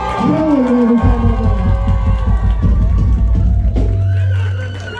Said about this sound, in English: I need everybody to yell at the top of your lungs